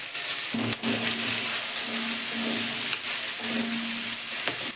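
Capsicum hits a hot pan and sizzles: a loud, steady frying hiss with a few light stirring clatters, close and without talk.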